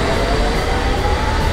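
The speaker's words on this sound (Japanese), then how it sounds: "ああ電車行っちゃった" A London Underground train pulls away from the platform with a loud, steady rumble and broadband rolling roar that holds evenly throughout, with no voices over it.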